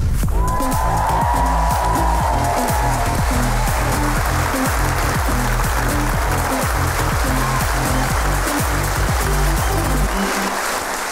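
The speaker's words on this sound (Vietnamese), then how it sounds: "Một tràng vỗ tay để chào đón Huy My ra sân khấu chính." Loud, sustained audience applause on a Vietnamese TV game show welcoming Huy My to the main stage, mixed with crowd cheering and a steady pounding music beat underneath throughout.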